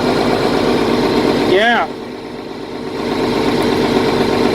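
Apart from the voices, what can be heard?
tractor engine idling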